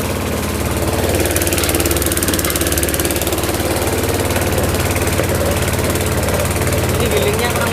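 A motorised dough grinding machine runs steadily throughout, a loud continuous engine drone with a low rumbling hum, while people talk over it at a food stall making dough.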